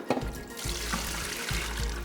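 Dirty whey water from curdled milk is tipped out of a pot, a steady splashing pour with a few sharper splashes, close by and with no one speaking.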